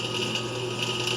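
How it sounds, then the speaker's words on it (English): Power drill fitted with a cobalt bit turning slowly under steady pressure, drilling metal during restoration of an International Farmall Super H tractor; a steady, even whir with a faint grinding edge runs throughout, alone and without talk. "These are cobalt drill bits, so I make sure that I have the drill turning fairly slow, but I keep constant pressure on them."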